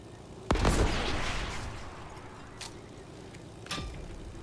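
Gunfire in the video game Fortnite: one loud, sharp blast with a long rumbling decay, then two fainter distant shots spaced a second apart over steady game background noise.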